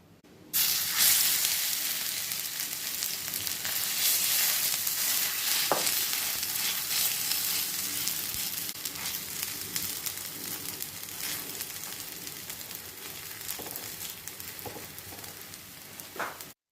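Chickpea adai batter frying in sesame oil on a dosa pan, a steady close sizzle and crackle that starts abruptly and runs unbroken, with a few soft clinks along the way.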